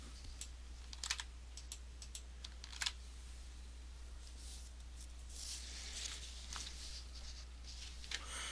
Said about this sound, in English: type the same address.